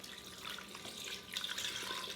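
Tap water runs steadily into a cooking pot in a home kitchen, two cups' worth for a chicken and root vegetable stew, a continuous close splashing hiss that stays even throughout with no talking.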